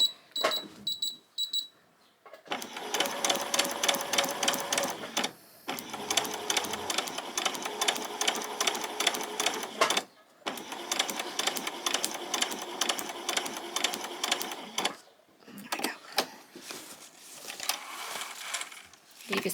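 A sewing machine stitches a row of stitches on fabric in several bursts of rapid, even chattering, separated by short pauses, fairly close and alone.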